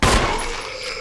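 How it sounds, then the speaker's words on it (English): A single sharp gunshot in the Resident Evil HD Remaster game, loud and close with a long reverberant tail fading over a second. "Aim down and shoot him."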